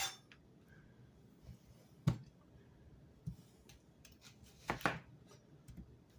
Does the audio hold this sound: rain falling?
no